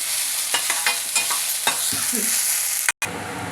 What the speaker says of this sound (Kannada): ಬೆಟ್ನಲ್ಲಿಕಾಯಿ ಸ್ವಲ್ಪ ಹಸಿ ಇತ್ತಲ್ಲ ಅದೊಂಚೂರು ಫ್ರೈ ಆಗಲಿ